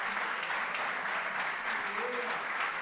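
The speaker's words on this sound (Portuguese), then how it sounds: "Gostaria que a igreja desse um aplauso a Jesus." A congregation at a Portuguese-language church celebration service claps in a fairly soft, steady round, with faint voices mixed into the applause.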